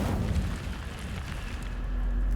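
An incendiary fire spell blasting in Hogwarts Legacy, heard as a loud, deep roaring burst that rumbles on steadily for a couple of seconds.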